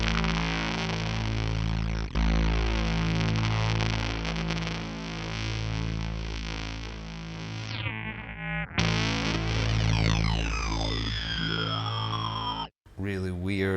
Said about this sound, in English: Really weird, throaty, aliasing kind of sound.